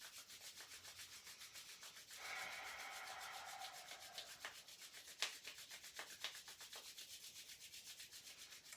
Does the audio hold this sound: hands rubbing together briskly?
yes